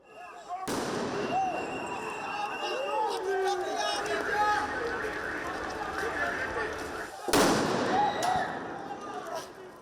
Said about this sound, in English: police attempted to break up the sit-in protest by throwing multiple tear gas canisters toward the demonstrators